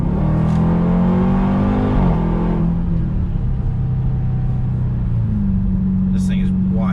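A 2021 Dodge Durango Hellcat accelerates hard in sport mode. Its engine gives a loud, sustained roar whose pitch climbs, dips briefly at a shift, then rises again close by.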